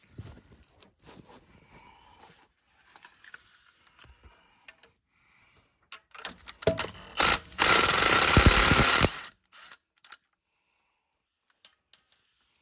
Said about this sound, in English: Then you got to remove these bolts or nuts.